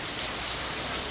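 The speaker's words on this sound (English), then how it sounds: "That's rain. That's how hard it's raining." Heavy rain pours down in a dense, constant hiss on Labor Day, loud and unbroken from start to finish with no voices.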